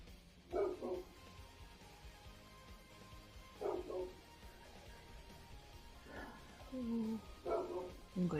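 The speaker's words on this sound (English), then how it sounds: "I'm going to mute for a hot second till they stop barking at whatever ghost is outside." Several dogs bark outdoors in scattered bursts, moderately distant, with quieter yips between the louder volleys over a low background hum.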